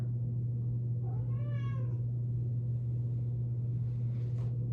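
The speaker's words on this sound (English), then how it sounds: "my cat keeps coming to the door to meow" A single drawn-out cat meow at a door, fairly close, over a constant low electrical hum, followed by a fainter brief sound.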